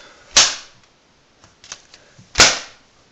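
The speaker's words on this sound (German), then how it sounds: "durch den Windzug klappt sich das auf und es macht halt einen Knall." A folded paper popper (Knalltüte) is swung to snap open, giving two sharp, loud bangs about two seconds apart, with faint rustling and small pops in between.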